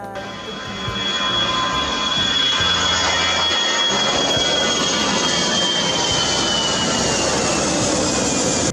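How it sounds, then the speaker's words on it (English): A Malaysia Airlines Airbus A380 on landing approach at Kuala Lumpur Airport with its landing gear lowered, a loud steady jet-engine roar that swells in the first seconds and holds broad and constant throughout, with no talking. "All the plane's tires have come out completely, indicating that the plane is ready to land."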